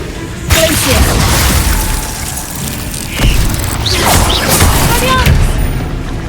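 Icy spell blasts from Hogwarts Legacy combat, a sharp burst near the start followed by crackling, shattering impacts and a second surge midway, with a voice calling out spell names over the game noise.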